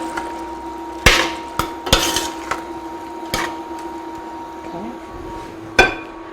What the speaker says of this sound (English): Just going to stir it a bit so it mixes with the